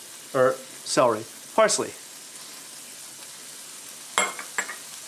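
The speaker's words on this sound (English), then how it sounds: "Sizzle, sizzle. You do like a good sizzle." Bacon sizzles softly and steadily in a frying pan with grated Parmesan and minced parsley, while a voice speaks a few short phrases over it.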